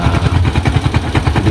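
Vehicle engine idling while warming up, a steady close low rumble with regular chugging pulses and no voices.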